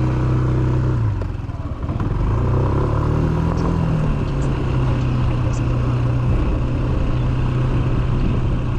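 A Yamaha Smax 155 scooter riding on a dirt track, its engine droning loud and steady up close with a brief dip and rise in pitch, plus rattling over the rough ground.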